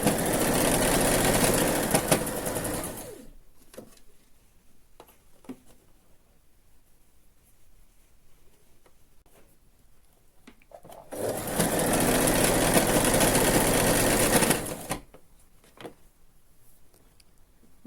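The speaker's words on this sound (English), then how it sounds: "You can also do the picot stitch on it" Sewing machine running picot stitch along a garment sleeve, two loud sustained whirring bursts of a few seconds each separated by a quiet pause with faint clicks of fabric handling.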